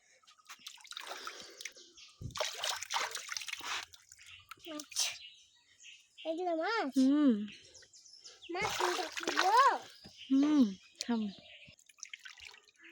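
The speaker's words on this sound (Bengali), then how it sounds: "দেখছেন মাছ ধুতে লাগছে" Fish being washed by hand in water, with repeated drips and splashes scattered through the clip. People talk throughout, and high-pitched voices rise and fall between the watery sounds.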